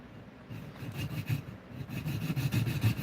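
A hand file rasping along a Buck 112 Slim knife blade, making close, rhythmic back-and-forth scraping strokes in quick succession.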